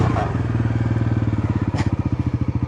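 A motorcycle engine putters, then revs into a rapid, increasingly pronounced pulsing as the bike pops a wheelie, loud and close with no talk.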